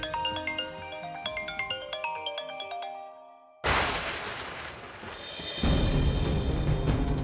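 A bright melodic phone ringtone plays in repeating electronic notes, then cuts off abruptly into a loud burst of noisy rumbling.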